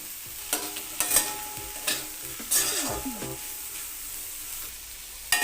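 Sliced potatoes fry in a pan with turmeric and salt, a soft background sizzle broken by several sharp spatula clanks and scrapes as they are stirred, close and without talk.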